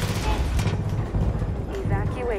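Rapid gunfire bursts from the Far Cry 5 co-op shooter crackle through the whole stretch, loud and dense with booming hits, while voices murmur underneath.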